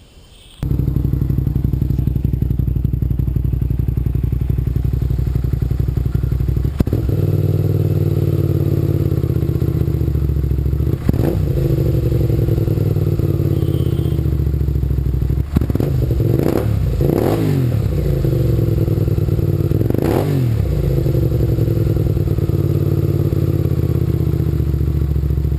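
A 2015 Hyosung GT650N motorcycle fitted with an aftermarket exhaust and dB killer idles steadily up close, then blips the throttle in several sharp revs, one around a third of the way in and a cluster of quick rising-and-falling bursts toward the end.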